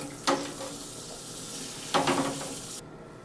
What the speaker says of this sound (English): stir in the malt to make sure that all the malt is properly saturated